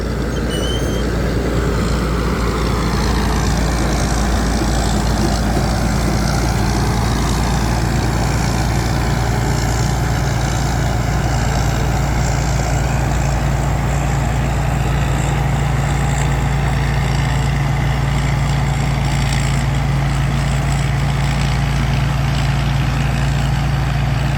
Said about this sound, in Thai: เครื่องยนต์ฮิโนเจโอ 8C ครับผม ปั๊มไดกิน 23